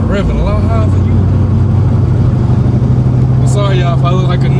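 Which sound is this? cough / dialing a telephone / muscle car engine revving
muscle car engine revving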